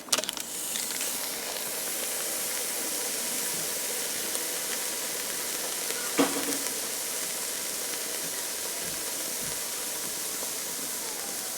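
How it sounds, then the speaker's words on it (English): A pound of ground beef browns in a Dutch oven, a steady broad sizzle with one brief stir or scrape partway through and no talk. "I'm gonna begin the soup by browning a pound of ground beef."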